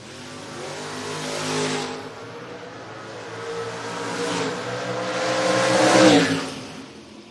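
A 1968 Nova and a 1968 Camaro launch down a drag strip, their engines revving up in waves and swelling to a loud peak, then easing off as the cars pull away, with no voices over the roar.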